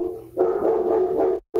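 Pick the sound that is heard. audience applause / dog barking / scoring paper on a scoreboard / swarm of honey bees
dog barking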